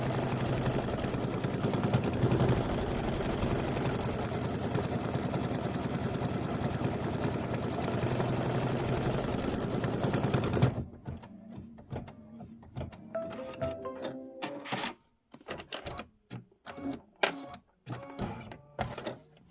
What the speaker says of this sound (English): then we're going to stitch the roof decorative outline